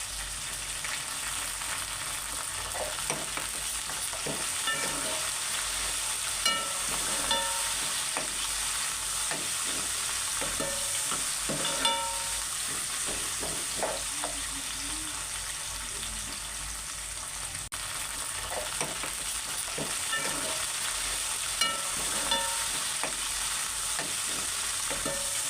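Onions and green chillies fry in oil with bay leaf for a mutton curry, giving a continuous bright sizzle and frequent spatula scrapes and taps across the pan.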